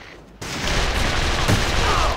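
Gunfire from a computer shooting video game: a sudden burst of rapid shots that begins after a brief quiet pause and continues densely to the end.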